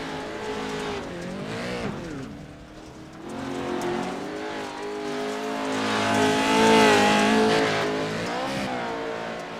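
Racing trucks roar around a dirt track during qualifying, engines rising and falling in pitch as they pass, with a loud surge of revving near the middle and steady engine drone throughout.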